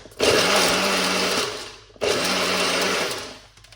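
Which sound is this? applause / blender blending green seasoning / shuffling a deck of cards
blender blending green seasoning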